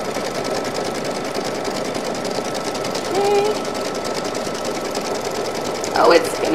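A sewing machine tacks down the back fabric of a fabric snack bag, running as a steady, even stitching hum throughout, with a brief louder rattle near the end and a voice talking over it.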